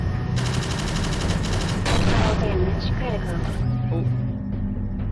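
Missile launch and blast in the indie space shooter game Astrokill, a loud sustained burst of explosive firing and rumble over a dense engine-like drone, with a brief surge midway as the barrage peaks.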